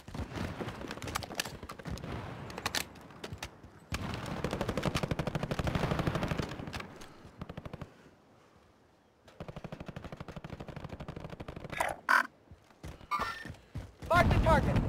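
Small-caliber gunfire in Call of Duty: Modern Warfare (2019), rapid bursts of shots in dense stretches broken by a brief quiet gap, then sharper isolated cracks near the end, loud and close.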